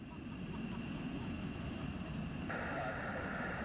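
Military jet aircraft taking off at RAF Lakenheath on a training mission, carrying fuel tanks, give a steady, loud engine roar that holds without a break, while faint voices talk underneath.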